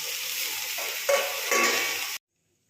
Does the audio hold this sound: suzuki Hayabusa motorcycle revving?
no